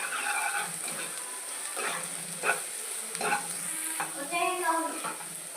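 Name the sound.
stirring spiced fish curry base frying in pan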